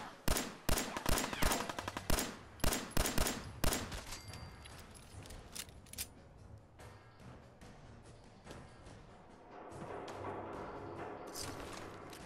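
Enemy gunfire in the video game Fallout 4, sharp bursts of rapid shots crackling in quick succession, loud and close at first, then thinning to scattered reports and a distant rumble.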